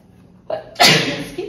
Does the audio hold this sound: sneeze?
yes